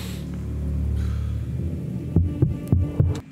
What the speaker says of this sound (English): they have this kind of tapping sound along with the timpani rolls and the arpeggiated rhythm